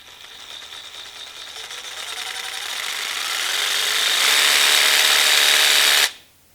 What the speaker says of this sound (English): So if I begin slowly and then slowly increase the trigger pull,